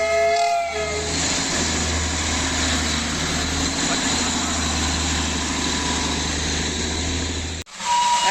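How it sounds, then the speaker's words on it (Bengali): A Darjeeling toy train steam locomotive rumbles close by with a loud, steady mechanical drone, its whistle sounding briefly at the start before the noise cuts off abruptly near the end. "টয় ট্রেনে দেখা পেয়ে গেছি"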